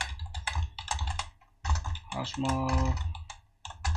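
Rapid clicking of a computer keyboard at a desk while coding in Java, with bursts of keystrokes and short pauses, and a voice speaking briefly over the typing.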